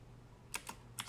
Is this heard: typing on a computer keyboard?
yes